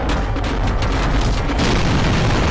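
An explosion in the Garry's Mod video game gives a dense, loud, rumbling roar with crackling bursts in its opening second, then a steady heavy rumble that fills the whole moment, with no talking.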